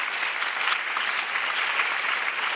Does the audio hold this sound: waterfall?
no